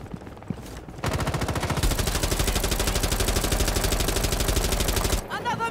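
Sustained automatic gunfire from Rainbow Six Siege, a rapid, loud, steady burst of rounds lasting about four seconds, with quieter game sounds before and after.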